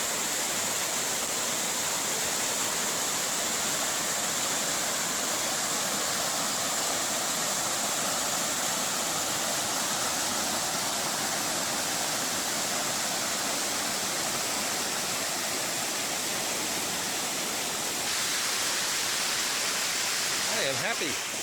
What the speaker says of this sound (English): Ellicott Falls.